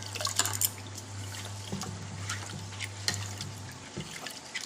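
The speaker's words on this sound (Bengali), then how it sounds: "এই যে খুদটা এরকম জল দিয়ে আমি 2-3 বার ধুয়ে নেব" Broken rice grains are washed by hand in water, with soft sloshing, splashes and small drips close by in irregular bursts over a steady low hum.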